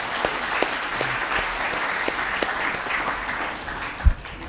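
Audience applause at an Indonesian language and literature conference as a speaker is welcomed, a steady burst of clapping from a seated crowd with a louder thump near the end.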